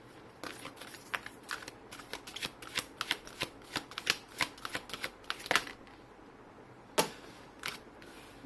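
Tarot cards riffled and shuffled in a quick run of crisp, close papery snaps and flutters, pausing briefly before a last few sharp card flicks and draws.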